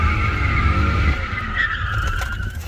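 A manual BMW 325ci does donuts, its tires skidding and squealing loudly over a droning engine that holds high revs, with the screech rising and wavering close by.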